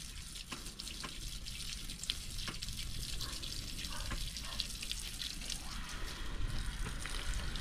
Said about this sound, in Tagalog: Yan, binubuhusan na natin ng tubig.